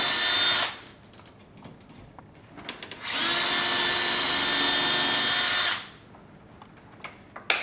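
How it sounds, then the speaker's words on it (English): Two bursts of a power drill pre-drilling holes for a lock install, whirring at steady high pitch, a short one then a longer run of about three seconds, with quiet handling noises between. "go ahead and just pre-drill the holes"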